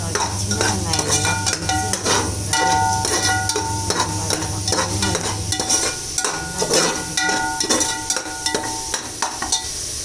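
Shallots sautéing in sesame oil with mustard seeds and curry leaves, a close crackling sizzle punctuated by repeated rhythmic scrapes and clinks of a spoon stirring the pan.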